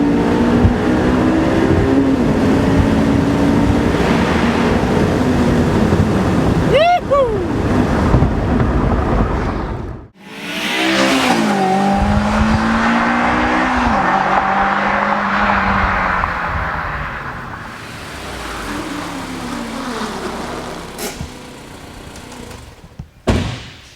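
A Honda S2000 engine roars loudly as the car drives through a tunnel, revving up and sweeping in pitch, briefly dropping off before surging again with echoing intensity and strong road noise.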